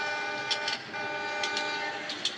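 A locomotive whistle sounds in short repeated toots over a steady hum of a local passenger train in the Incorails railway simulator game.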